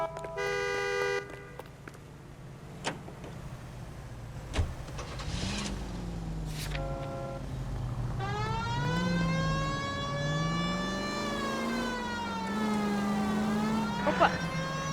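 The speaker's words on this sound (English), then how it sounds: "We have a siren." A rising and falling electronic police siren in the video game L.A. Noire wails steadily over engine hum, with a few short clicks and beeps before it starts.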